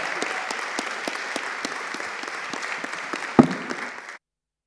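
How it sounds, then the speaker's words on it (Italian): An audience gives a sustained round of applause for translators at a special jury program event, dense clapping that rolls on evenly for about four seconds before stopping abruptly. "could we also have an applause for Rebecca for translating"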